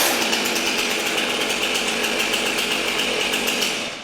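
A STIHL MS 400 C chainsaw engine runs steadily at a slightly high idle, a loud, close, continuous buzzing drone that holds level throughout and dips slightly at the very end.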